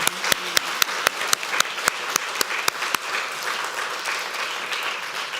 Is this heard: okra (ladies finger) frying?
no